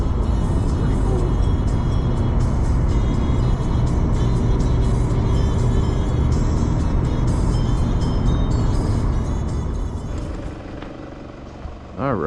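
A car drives along a road heading into a volcano area in Iceland, giving a steady, close engine and road rumble that holds loud and even before easing near the end.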